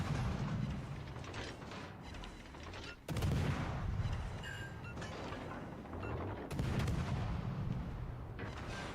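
In World of Warships: Legends, the battleship Minnesota fires HE shells. Two heavy booming salvos about three seconds apart roll over a constant mechanical rumble.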